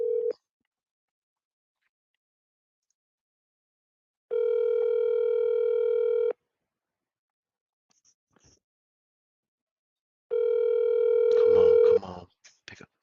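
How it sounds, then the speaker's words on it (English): Ringback tone of an outgoing telephone call, steady electronic ring bursts about two seconds long separated by a few seconds of silence, clear and close, with faint movement noise at the end. "It's a ringer."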